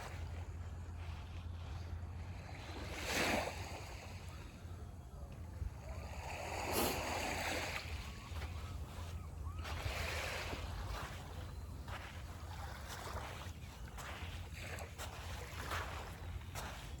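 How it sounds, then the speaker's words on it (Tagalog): Steady wash of sea waves and wind noise at a Stanley Park beach in Vancouver, with a boat engine humming low underneath and a few louder surges. "Yan yung dagat."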